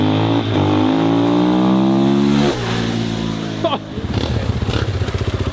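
A new KTM 450 EXC-F single-cylinder dirt bike engine revs loudly and close, holding a high whine before dropping in pitch and settling into a lumpy, pulsing lower idle.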